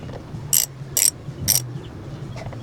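Three short, sharp metallic clicks about half a second apart from a torque wrench reaching 35 Nm on a caliper bracket bolt of a Yamaha NMAX 155 scooter's brake, close and alone over low background hum.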